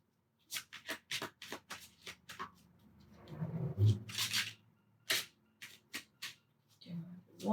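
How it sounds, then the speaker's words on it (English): Tarot cards are riffle-shuffled by hand in quick bursts of crisp flapping clicks, close and distinct, with a person talking briefly between rounds. "Okay, one more shuffle."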